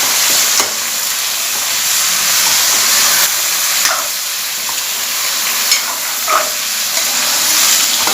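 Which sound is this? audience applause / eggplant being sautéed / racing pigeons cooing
eggplant being sautéed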